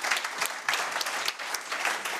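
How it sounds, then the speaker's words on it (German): Applause from an audience at a live stage event: brisk, dense clapping with a few louder swells, heard alone for about two seconds. "Großen Applaus bitte noch."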